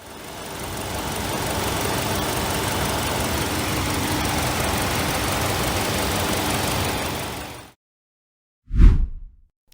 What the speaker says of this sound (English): We'll need to let the car idle for 15 minutes. It will sound pretty rough